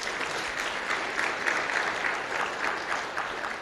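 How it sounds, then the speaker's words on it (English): A conference audience applauds during a general chair's report, a steady crowd of clapping hands filling the room at an even level, moderately distant and without talk. "A round of applause to him,"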